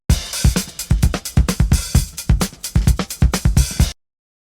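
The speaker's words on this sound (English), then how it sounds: "I actually want to add a drum break into here" Drum break sample playing in Ableton Live: punchy kicks and crisp snares and hats in a busy breakbeat groove for about four seconds, then cutting to silence.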